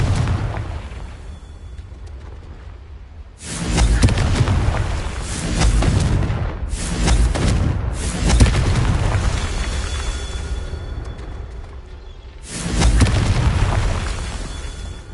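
Loud booming blasts from the Confringo explosion spell in the Hogwarts video game come in bursts, with a heavy one early, several rumbling ones in the middle and another near the end over a low background.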